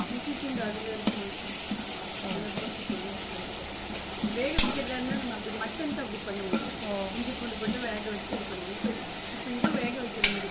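Chicken curry pieces frying and being stirred in a biryani pot, a steady sizzle with scraping stirs and a few sharp clanks of the spoon against the pot.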